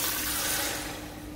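Water pours steadily into a pot holding a marinated goat leg roast with masala, a continuous splashing rush that thins slightly toward the end, close and alone without talk.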